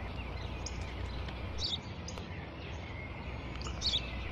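Brief bird chirps, two short clusters of tweets, rise over a steady low rumble of background noise, fairly faint and with no voices.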